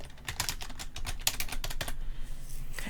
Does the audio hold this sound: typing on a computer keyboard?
yes